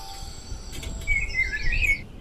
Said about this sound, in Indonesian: Tuh ada suara burung, teman-teman.